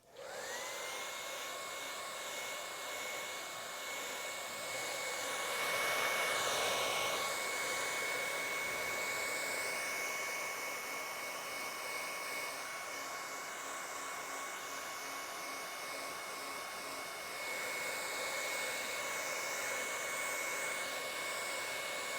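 An electric hair dryer blows continuously to dry a piece of artwork in an art studio, giving a loud, steady whine that swells briefly early on and then holds.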